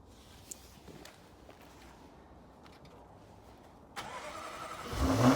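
Jaguar F-Type R engine cranking slowly in freezing winter cold, then catching and firing up, the start rising loud near the end after a quiet outdoor lead-in.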